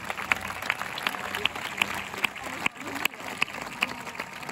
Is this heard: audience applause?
yes